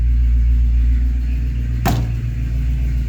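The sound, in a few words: 1985 K20 truck engine idling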